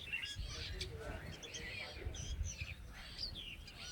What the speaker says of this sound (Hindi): मैं चिड़ियों की आवाज़ सुन रही हूँ